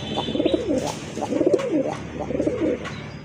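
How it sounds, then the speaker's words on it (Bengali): Pigeons coo in close, repeated throaty phrases with a steady rolling rhythm. Several birds can be heard in a pigeon sale collection, with little background noise. "এখানে কিছু সিঙ্গেল কবুতর রয়েছে মাশাআল্লাহ"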